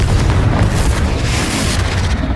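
Confringo fire-blast spell detonating in Hogwarts Legacy, a loud sustained booming roar with dense low rumble and crackle that stays steady and close for the whole span, with no voices.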